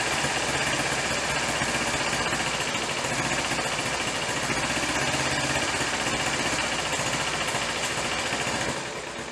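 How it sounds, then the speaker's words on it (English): A Kawasaki Ninja 250R motorcycle idles steadily nearby, a constant buzzing drone with no change in pace that dips slightly in level at the very end. "It was running and idling."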